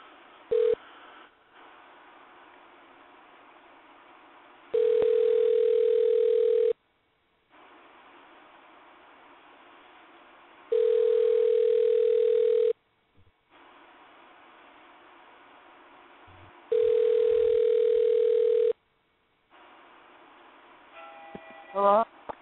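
A telephone line for a call to a radio show carries a steady hiss, broken by three long, evenly spaced ringback tones and a few short clicks near the end.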